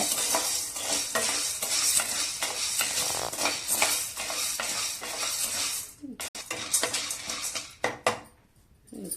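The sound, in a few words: corn and seeds being dry-roasted and stirred in a pan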